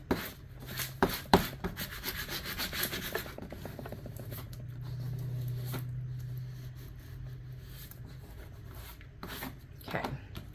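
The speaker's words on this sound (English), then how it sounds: "All right, and then we are burnishing." Burnishing 651 adhesive vinyl for a graduation sign, with close scratchy rubbing strokes, a few sharp taps early on and a steady smooth scraping through the middle, fading to lighter rubs.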